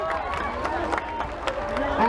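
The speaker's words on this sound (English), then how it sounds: "can I hear a round of applause?" Festival crowd at the SarBay Festival in Sarangani clapping and cheering, scattered claps and shouts at moderate loudness mixed with a babble of voices.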